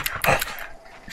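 A panting, dog-like creature in the video game The Outer Worlds gives a few short, wet, breathy huffs and snorts, with a sharper burst near the start. It sounds close and moderately loud.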